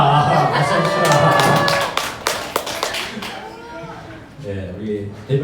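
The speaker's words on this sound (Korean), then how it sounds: "박수 주시라" A church congregation applauds in a brisk burst of clapping mixed with voices and cheering, fading out as a voice carries on alone.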